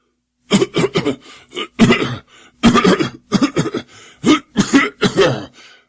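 A series of harsh, hacking coughs in close succession, loud and near, with brief pauses between bursts and no talking.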